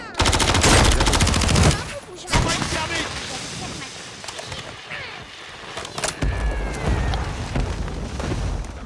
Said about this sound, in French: Un allié a demandé une frappe de mortier.